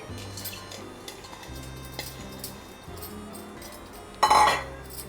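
Leafy greens, including takla and bean leaves, go into a metal cooking pot with light clinks and taps, then one brief louder clattering rustle near the end, close and without talk.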